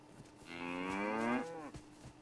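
A cow in the video game DayZ lets out a single long, drawn-out moo that rises and then falls, heard clearly at moderate distance in an otherwise quiet scene.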